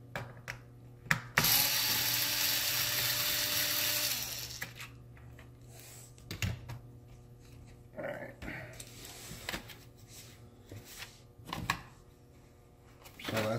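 A screwdriver backs screws out of an HP laptop case, giving close, quiet ratcheting clicks and scrapes with a brief rushing burst near the start.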